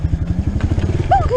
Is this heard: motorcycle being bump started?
yes